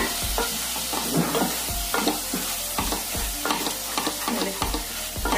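Onions and masala fry in a pan for an egg masala gravy, with a steady sizzle broken by repeated scraping stirs of a spoon against the pan, close and fairly loud, no talking.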